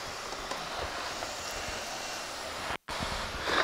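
Henry cordless stick vacuum running close by with a steady, loud broadband whirring hum, brief clicks and rattles of debris, and a momentary cutout near the end.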